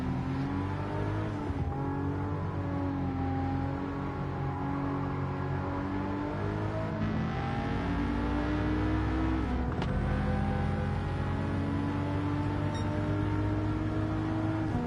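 Toyota GR Supra engine in the Gran Turismo video game, a steady loud drone with rising and falling revs and shifts in pitch, continuous across the whole stretch with no talking.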